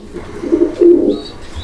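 A Blue Shirting pigeon pair coos close by, two soft throaty coos in quick succession followed by faint chirps, with no voices over them.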